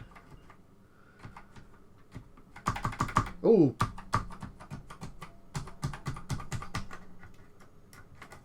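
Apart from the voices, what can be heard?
keys pressed during ZX Spectrum keyboard test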